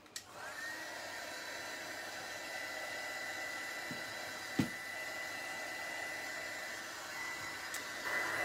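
A hair dryer blows steadily to dry a rustic craft bottle that has been wiped clean before white wax finishing, with a continuous close whir that stays even throughout.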